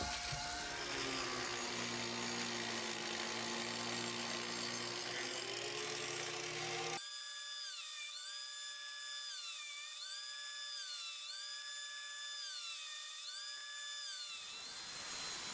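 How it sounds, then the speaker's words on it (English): A jigsaw cuts leaf shapes from half-inch ipe hardwood blocks with a loud, steady, close buzzing for about seven seconds, then stops abruptly, leaving a thin tonal melody. "Now I could cut out the leaf blocks on the jigsaw"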